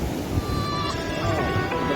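Surf washes onto a Kerala beach shore in a steady low rumble with wind noise, while faint tonal sounds like distant voices or whistles drift over the top.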